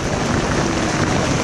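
Rain falling steadily on an outing near Infanta, Quezon, a dense close hiss with no clear breaks, alone and without talk.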